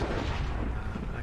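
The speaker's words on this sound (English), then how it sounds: "the noise from the lightning strikes was so loud" Booming thunder from a lightning strike in Minecraft, a dense, loud rumble that stays steady and fills the whole short moment without a break.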